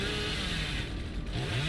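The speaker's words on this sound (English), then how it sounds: "we're going to need to get lucky with a chainsaw" A chainsaw revs in the horror game Dead by Daylight, a loud buzzing motor that holds steady and then rises in pitch toward the end, with no voices over it.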